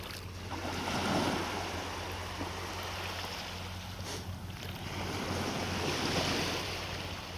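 Ocean surf washing onto a beach at Long Beach at low tide, a soft continuous rush of waves swelling and fading with a steady low hum underneath.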